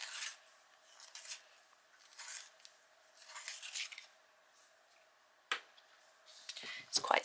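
A short Van Dyke brown Prisma colored pencil sharpened in repeated rasping strokes, with a few soft clicks near the end, fairly faint and close.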